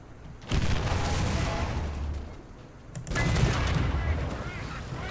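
Tank cannon firing in War Thunder, two loud, close booms about two and a half seconds apart, each followed by a rumbling tail over engine noise.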